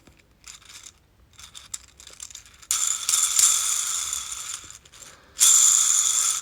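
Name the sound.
Layer Labs Gear Spinner fidget toy ratcheting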